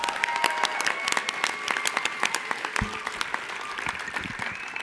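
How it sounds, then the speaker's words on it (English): Applause from an audience at the Oxford House World Convention, a steady wash of many clapping hands with a few sharp individual claps standing out, moderately distant and alone without talk. "Can we get another round of applause for Veronica?"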